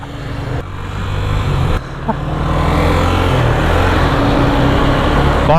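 250cc motorcycle pulling away, a loud close engine drone that steps up through a couple of gear changes and builds into a sustained roar as it rides off.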